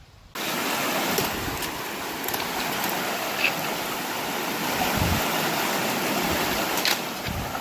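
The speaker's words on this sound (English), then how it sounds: "it was like a large, fast-moving stream" A large, fast-moving stream crossing a hiking trail on the Pacific Crest Trail rushes loudly and steadily, close by, a dense continuous roar of water with no voices.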